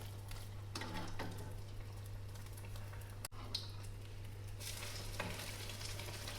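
Ponnani-style egg pathiri frying in oil gives a faint, steady sizzle against a low background hum, with a few soft stirring or handling sounds and no talking.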